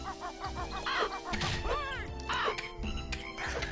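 Crows in Banjo-Kazooie caw repeatedly over game music, with harsh calls coming in quick bunches alongside clattering effects. The calls sound close and loud.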